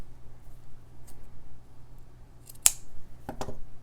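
Scissors snip white rickrack trim for a Christmas stitching project, with two close, crisp cuts in a quiet room and a few faint handling rustles before them.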